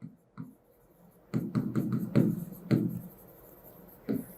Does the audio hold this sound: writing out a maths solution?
yes